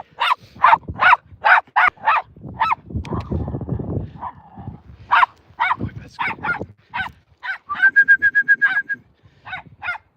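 Several playing dogs bark in rapid, loud, close bursts, the sharp yaps coming in quick rhythmic runs with a rough scuffle of noise in between and a short high whine near the end.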